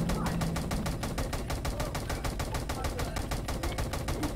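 Rapid, steady automatic gunfire in an SCP video game, a dense unbroken burst of shots running loud throughout, with a voice talking faintly underneath.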